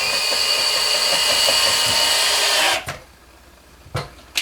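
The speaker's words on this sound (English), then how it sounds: "I'll use an electric drill to do that" Electric drill boring into wood for a micrometer display stand, a loud high whirring run of nearly three seconds that cuts off abruptly, followed by a couple of short knocks and handling sounds.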